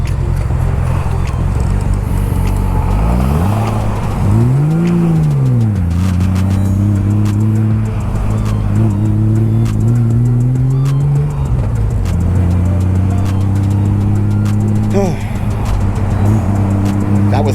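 Road traffic roars near a tunnel, with loud engine drone and rising and falling pitch as cars accelerate and pass close by, continuous throughout, under a speaking voice.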